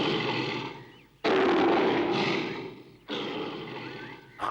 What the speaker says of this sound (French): Le tigre avait bondi sur son ennemi.